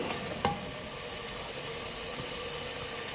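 Potatoes and mutton sizzle together in a pan, a steady frying hiss with one sharp knock early on as pieces go in, then continuous sizzle; no talking.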